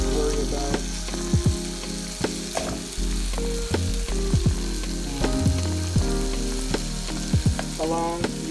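Pre-cooked bratwurst and sauerkraut sizzle and fry steadily in a pan, with a continuous crackling hiss broken by occasional stirring scrapes, close and alone without talk.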